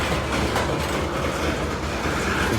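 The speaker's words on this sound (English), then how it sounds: "So I'll restart the video when the train starts moving." A loaded coal freight train rolls along the rails with a steady, continuous rumble and rhythmic clickety-clack of wagons passing close by, loud and unbroken throughout with no talking.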